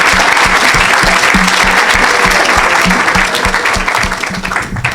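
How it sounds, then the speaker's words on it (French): A church congregation applauding the Lord, a steady roar of many hands clapping together that fills the space at full volume, with rhythmic low thumps running underneath and a faint voice in the background. "Acclamez le Seigneur."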